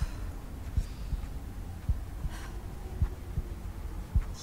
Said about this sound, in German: Ich höre einen Herzschlag.